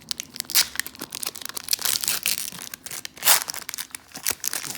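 Pokémon Shining Fates card packs being torn open, with close, loud crinkling and ripping foil wrappers in irregular bursts and a few sharper tearing peaks, no voices.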